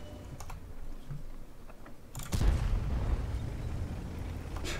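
A tank explosion in the World of Tanks game erupts midway as a deep, booming blast with a rumbling tail, following quiet keyboard tapping and faint in-game ambience.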